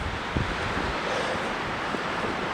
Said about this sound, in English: Wind is whipping up here.